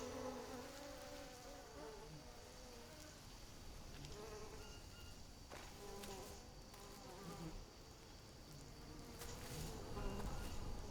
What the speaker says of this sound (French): J'entends les abeilles.